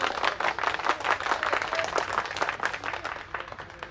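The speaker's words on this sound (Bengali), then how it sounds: "হাততালি।" An audience at a 25th-anniversary reunion gathering claps continuously, a dense patter of many hands at moderate distance that holds steady for several seconds before easing slightly.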